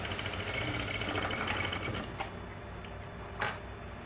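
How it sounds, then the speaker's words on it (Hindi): Sewing machine stitching the lining of a lehenga blouse, a steady close mechanical whir for about two seconds, then stopping with a few faint clicks and handling sounds. "अब ऊपर की तरफ से मैं पूरे राउंड में ही अस्तर को स्टिच कर लूँगी।"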